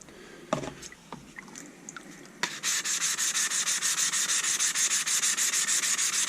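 A Work Sharp waterstone, 200 grit side, is flattened on a Harbor Freight diamond hone block: a few scattered knocks and scrapes, then steady rhythmic gritty rubbing strokes, close and loud, without talk.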